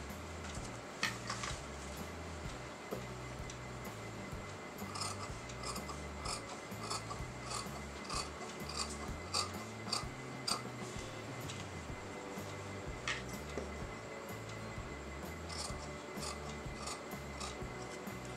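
Scissors cutting out a canvas neckline piece for a kameez or kurti, with repeated faint snips and crisp ticks over a soft rubbing, steady background hum throughout.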